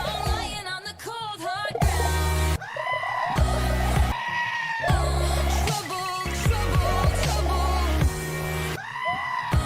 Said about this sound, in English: Is this gonna be a goat?